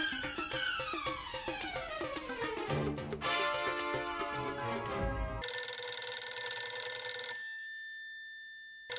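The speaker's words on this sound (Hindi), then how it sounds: "अरे तेरा फोन बज रहा है" Electronic ringtone chiming from a phone in a home during a comedy scene, a steady rising melodic pattern of bright tones repeating for several seconds before a sustained high note fades out, no voices over it.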